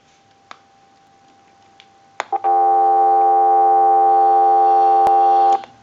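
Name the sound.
telephone dial tone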